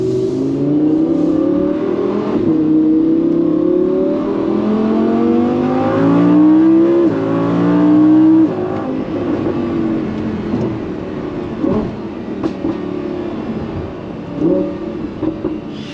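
A Lamborghini accelerates hard on an open road, its engine note loud and close as it climbs steadily in pitch, then eases off toward a quieter rumble.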